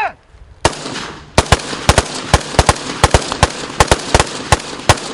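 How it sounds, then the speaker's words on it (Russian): Gunfire rings out at a border guard shooting practice in Abkhazia: a quick run of loud, close, sharp shots in an irregular rhythm, about fifteen in all, with brief gaps between them. "сотрудники погрануправления систематически проводят занятия по стрельбе."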